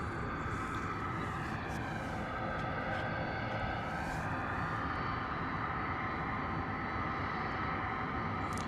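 A DHL Airbus A300 cargo jet is heard at an airfield as a continuous broad engine roar, steady and fairly loud, with no voices.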